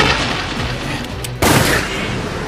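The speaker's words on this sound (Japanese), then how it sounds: "さ て、いよいよ狙撃です。" A single sharp sniper shot cracks out loudly midway through an Assassination Classroom anime scene, bursting over a steady background hum.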